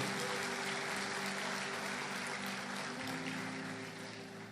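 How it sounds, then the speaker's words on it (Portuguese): A church congregation applauds during a Portuguese-language sermon, a broad, continuous roar of clapping from many people in a large room, fairly faint and slowly fading toward the end. "Se é para Jesus, você pode aplaudir."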